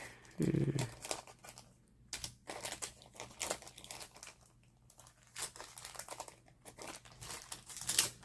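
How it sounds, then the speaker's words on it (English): Craft flower stems being snipped with scissors or cutters for a papercraft journal project, giving a string of short dry clicks and crinkling rustles, close and fairly quiet, with a louder burst of handling near the start. "I'm just going to randomly choose some of these stems in here, and I'm just going to cut some."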